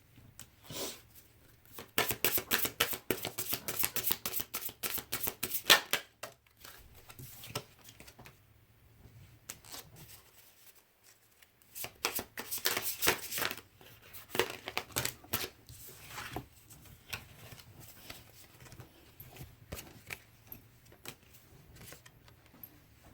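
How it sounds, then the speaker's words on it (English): Fairy Lenormand Oracle cards are shuffled and pulled, giving quick papery riffling bursts in clusters and soft card slides and taps between them. A short quiet lull falls midway, and the shuffling is close but fairly soft. "Let's pull some more cards here from the Fairy Lenormand Oracle."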